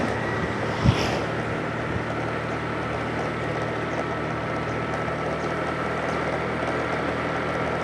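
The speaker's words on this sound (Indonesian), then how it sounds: "apakah suara si motornya ini dia kelihatan keras nggak suaranya?" Motorcycle engine while riding on a motovlog ride, a steady broadband rumble and wind roar running continuously and fairly loud, with a brief knock near the start.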